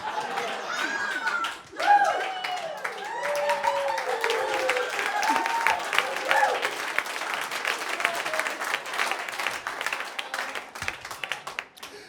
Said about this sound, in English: I don't know who started that applause break with thank you.